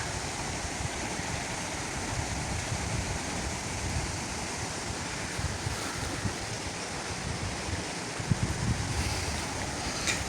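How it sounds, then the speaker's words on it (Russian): Storm-driven waves slap and knock against a drifting, uncontrolled boat on a lake, a steady rough wash of water with wind buffeting the microphone throughout, continuous and close with no voices. "волны тоже хорошо стучатся"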